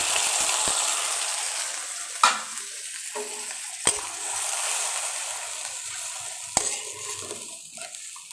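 Spices fried with onion and green chilies sizzle steadily in a pan, broken by a few sharp scrapes and knocks of a spoon as the mix is stirred close up.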